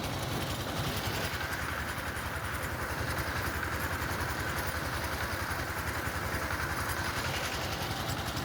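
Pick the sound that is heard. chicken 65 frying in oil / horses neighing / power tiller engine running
power tiller engine running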